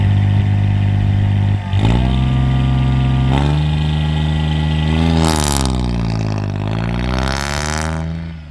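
Supercharged Kubota D722 diesel engine in a Honda car launching at full boost, a loud droning engine note that rises and falls through several gear pulls, close and alone without talk.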